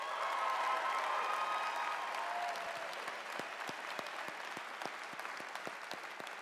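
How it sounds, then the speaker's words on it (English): A large crowd at a high school graduation applauds staff and faculty, a dense roar of clapping that thins into scattered individual claps toward the end. "Let's give them a nice round of applause."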